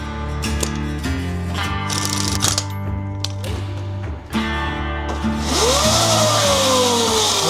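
A Sur-Ron electric dirt bike motor running after being put back together, giving a loud, steady electric whine with tonal hum layered over busy background music, rising into a higher sweeping pitch near the end.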